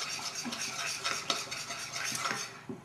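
A spoon stirs homemade cocoa face mask paste with crème fraîche in a small bowl, giving continuous close scraping and soft clinks against the dish.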